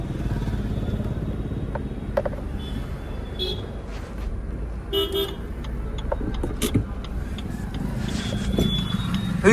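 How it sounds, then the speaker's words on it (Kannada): A motorcycle passes on the road just behind, its engine mixing with steady car traffic and a few short horn toots, with a voice talking faintly now and then. "ಇದು ಹಿಂದೆ ಬೈಕ್ ಬಂದೈತಿ"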